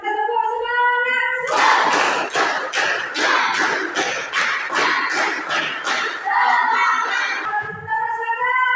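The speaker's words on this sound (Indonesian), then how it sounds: "Sebelumnya kita tepuk semangat." A classroom of pupils performs the 'tepuk semangat' spirit clap, a loud, tightly rhythmic run of about a dozen sharp group claps with a short flourish, framed by a teacher's speech before and after.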